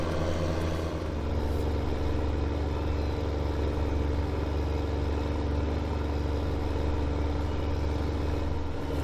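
A tractor engine runs steadily in Farming Simulator 2015, a continuous low mechanical hum and rumble that holds at an even, fairly loud level throughout with no talking.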